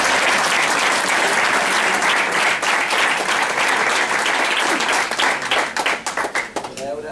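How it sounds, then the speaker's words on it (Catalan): Warm applause from a festival crowd at a Festa Major in Muttenz, Switzerland, dense sustained clapping that thins into scattered individual claps toward the end, with voices mixed in. "Un aplaudiment."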